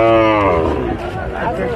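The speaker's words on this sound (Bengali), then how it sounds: "এক গরু আসতেছে মনে হয়" A cow lows loudly and close by at a crowded cattle market during the Eid season, a long drawn-out moo that fades into background murmur.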